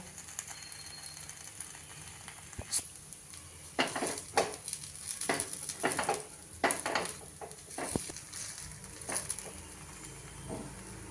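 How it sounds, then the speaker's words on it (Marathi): Moong dal appe being flipped in an appe pan while frying in oil: scattered scraping clicks and taps from the turning tool, with a faint steady sizzle underneath, close and fairly quiet. "आपण सगळे आप्पे उलटवून घेऊया आणि थोडंसं बाजूनी तेल सोडूया"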